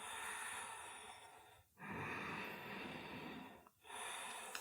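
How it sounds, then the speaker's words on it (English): Slow, steady breaths drawn in and pushed out during a hamstring stretching routine, each long airy exhale broken by two brief pauses, close and fairly soft with no talking. "Last round of breath."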